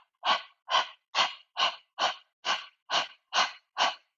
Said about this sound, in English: let's do breath of panting like a dog